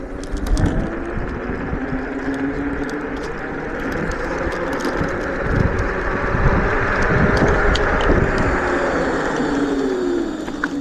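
An iScooter IX4 electric scooter accelerates toward its top speed outdoors. A rising motor whine sits under steady, loud wind rush across the microphone, with a few sharp knocks over roughly ten seconds.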